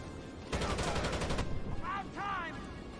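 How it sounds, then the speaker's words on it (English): Rapid gunfire bursts from the video game Rainbow Six Vegas 2, a loud dense volley lasting about a second, followed by a couple of short electronic chirping tones in a noisy game mix. "We're gonna go and shoot things."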